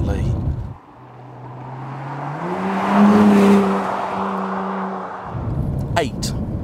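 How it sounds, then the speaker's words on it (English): A Honda NSX driving over badly paved tarmac, its engine note rising and holding as it passes close by, with road rumble around it; someone talks over the sound at the start and the end. "This is a really, really badly paved section of tarmac, and the NSX is taking it just"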